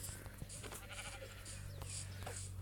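Sheep bleating in short repeated calls in a survival video game, over a steady low hum, with faint clicks and game-like background sounds.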